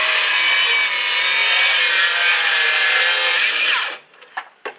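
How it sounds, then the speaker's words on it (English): An 18-volt cordless circular saw rips steadily through wood at close range for about four seconds, a loud continuous buzzing whine, then cuts out and leaves a few faint knocks and clatters. "On these skill saws, I like this one. It's a little 18 volt one"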